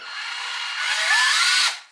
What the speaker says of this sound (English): Then we're just gonna drill in.